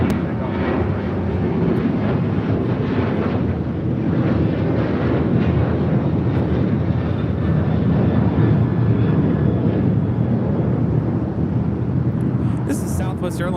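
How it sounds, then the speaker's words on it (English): Southwest Airlines Boeing 737-800 on its takeoff roll at LAX, bound for San Antonio: a steady, loud jet roar with wind buffeting the microphone, holding level throughout with no talk over it. "This is Southwest Airlines 2188 taking off to San Antonio on a 737-800"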